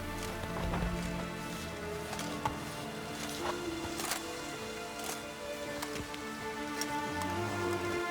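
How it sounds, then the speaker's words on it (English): Steady rain patters on surfaces in The Witcher 3, with a horse's hooves clip-clopping along underneath and scattered louder drops, no voices. "Looks like rain."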